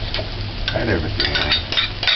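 Veggie chunks and onions being stirred in a cooking pan, giving soft irregular scraping and clinking of a utensil against the pan, close and moderately loud, with faint talk in the background.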